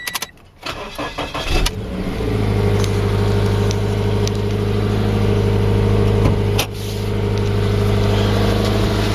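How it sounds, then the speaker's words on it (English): A 2019 Toyota 86 with the Subaru-Toyota flat-four engine cranks and fires up, then settles into a steady, close idle with one brief blip partway through. "So these have the 4-cylinder flat 4 developed by Subaru and Toyota."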